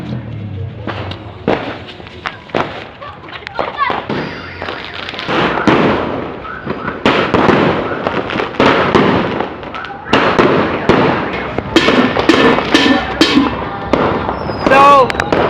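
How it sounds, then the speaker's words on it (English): New Year 2016 fireworks burst in a dense, continuous string of loud cracks and pops, overlapping and close by, with a few sharper bangs near the end. "I'm gonna show you a few videos of fireworks"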